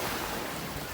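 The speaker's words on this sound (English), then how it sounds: "or just relax and watch the tide come in" Ocean surf rolls in at a beach in Georgetown, Guyana, a dense, continuous wash of waves mixed with wind rumble, heard briefly and fairly loud.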